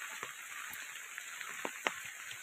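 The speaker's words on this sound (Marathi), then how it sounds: "पाऊस पण सकाळपासून खूप पडतोय" Rain falling on a farm with paddy fields in monsoon: a soft steady patter with a few isolated drops landing close by, quiet and without speech.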